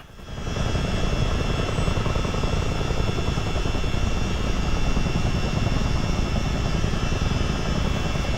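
A US Army Chinook tandem-rotor helicopter hover taxis in Microsoft Flight Simulator, its loud rotor and turbine roar swelling in within the first half second, then holding steady and dense to the end.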